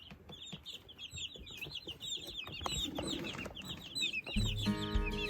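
Young chicks in an enclosure give a steady stream of high cheeping and soft clucking calls, close and continuous, with a brief low mechanical rumble near the end.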